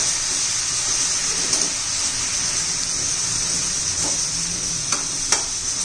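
Spinach goes into a hot pan and sizzles in a steady, moderately loud hiss, with a few faint clicks from stirring near the end and no voices.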